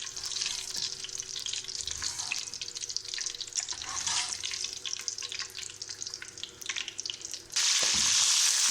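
Capsicum pieces frying in hot oil give a steady, close hiss and crackle that runs unbroken, then jumps louder and brighter near the end, with no voices over it.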